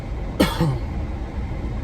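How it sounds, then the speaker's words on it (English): A single short cough close to the microphone over a steady low rumble of a car interior. "It's not a Rona cough."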